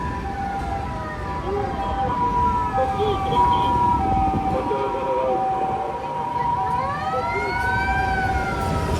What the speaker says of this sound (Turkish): Bakın yine bir tane ambulans bir şey geçiyor.